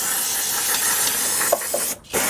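An aerosol can of cleaner sprays onto Honda Civic parts to cut through gunk, a loud steady hiss that holds for about two seconds and then cuts out briefly before starting again.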